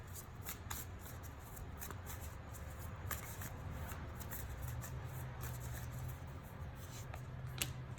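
Tarot cards shuffled and drawn by hand, a steady soft papery rustle with light repeated flicks and taps throughout, quiet and close with no talking.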